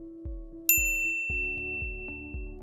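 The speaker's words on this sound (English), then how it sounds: "ring the bell to be notified about our latest videos" A bright notification bell dings once, loud and close, its metallic ring trailing off over a soft plucked melody and a low rhythmic beat.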